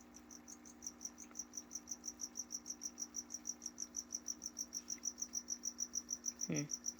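Crickets chirp steadily at night in Florida, a regular pulsing trill repeating about four times per second, quiet and even, with a brief faint rustle near the end.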